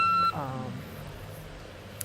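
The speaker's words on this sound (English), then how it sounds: "you're not going to miss that beep" A single loud electronic beep from a rechargeable UV/LED nail lamp sounds at the start and cuts off abruptly, followed by a falling tonal sweep and quiet room noise.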